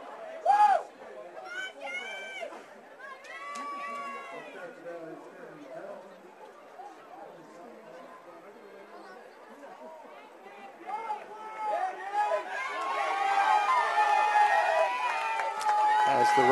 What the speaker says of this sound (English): the crowd is cheering them on each time passed.